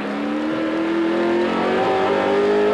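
A 1986 Nissan Group A race car at Amaroo Park, its engine droning loudly and steadily with rising pitch as it accelerates, heard continuously from on board.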